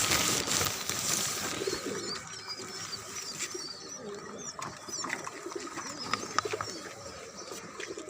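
Pigeons cooing nearby in soft repeated calls, with a few other birds chirping around them over a steady outdoor background in a rooftop garden.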